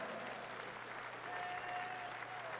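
A boxing crowd at a WBO Intercontinental Cruiserweight title fight between Enzo Maccarinelli and Denis Lebedev applauds steadily after the result is announced, a soft, distant wash of clapping over a low hum.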